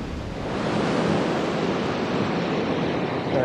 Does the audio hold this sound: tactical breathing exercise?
no